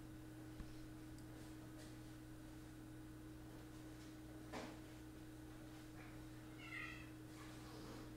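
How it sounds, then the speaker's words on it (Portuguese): Indoor cats meowing faintly in the background of a quiet room with a steady low hum, a few short calls near the end. "Vocês estão ouvindo os gatos miarem?"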